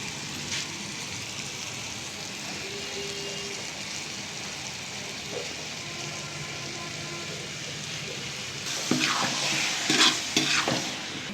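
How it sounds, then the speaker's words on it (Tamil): Boiled beetroot goes into a pan of fried onion and tomato for a beetroot masala curry, with a steady low sizzle under it and a burst of scraping, clattering stirring near the end. "இப்போ வேக வச்ச பீட்ரூட்டை சேர்த்துப்போம்"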